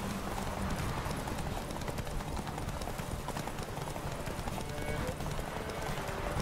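Roach, Geralt's horse in The Witcher 3, gallops with steady, dense hoofbeats in a continuous rhythmic patter under game ambience, with someone talking over it.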